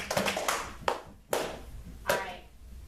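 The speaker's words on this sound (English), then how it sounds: "When I get to 1, we're all going to clap." A classroom of students claps together on a teacher's countdown, with several distinct bursts of applause separated by short pauses and a little scattered tapping in between.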